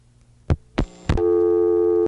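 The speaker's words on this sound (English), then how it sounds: "the time trunks go back to dial tone immediately" Three dull thumping clicks on an early-1980s telephone line, then a steady continuous dial tone as a time trunk returns to dial tone, holding for about a second before cutting off abruptly.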